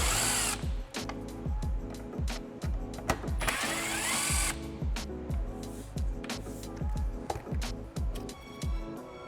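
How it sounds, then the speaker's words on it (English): A small Milwaukee drill fitted with a T20 Torx bit drives out screws in short repeated bursts, its motor whirring up and stopping in a quick stuttering rhythm, close and fairly loud, with one longer, brighter run partway through. "My tool of choice here is gonna be a little Milwaukee drill with a T20 Torx bit."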